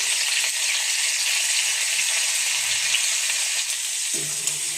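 Pointed gourd (potol) sizzling steadily in hot oil in a pan, a loud, continuous frying hiss that runs through the whole stretch, with a faint clink near the end.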